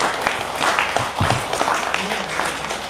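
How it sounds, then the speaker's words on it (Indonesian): A small audience at a talk gives applause, scattered hand claps that rise and fall over a few seconds, with voices murmuring underneath. "Kita tepuk tangan buat kita semua."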